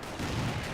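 A rifle grenade bursts in the World War II strategy game Company of Heroes, a short muffled thump with a rough low rumble lasting under a second, mid-distance in a battle mix.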